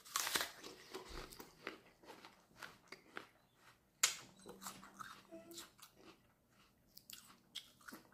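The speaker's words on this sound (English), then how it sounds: "I'm going to just give you it so you can hear the crunch again" Crisp, close crunching bites into a Wild Twist apple, a sharp crack followed by repeated wet chewing crunches at an uneven rhythm, with no talking.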